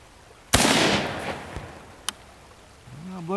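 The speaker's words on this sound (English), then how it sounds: "this right here is something I really love about this gun, and that's the sound" A Ruger M-14 rifle chambered in 5.56 NATO fires a single sharp, loud shot at cans, its report echoing and decaying over about a second, followed by a faint thud.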